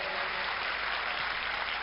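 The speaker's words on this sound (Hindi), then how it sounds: "एक बार जोरदार तालियों से राजू श्रीवास्तव जी को बधाई दें।" A large audience gives comedian Raju Srivastava sustained clapping, a steady even wash of applause at moderate volume.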